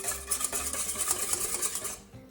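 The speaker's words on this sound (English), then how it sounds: "We have our 2 egg yolks, and we are going to give them a little whisk." Whisk beating two egg yolks in a bowl, a quick rhythmic scraping and tapping, close and moderately quiet, steady for about two seconds before stopping.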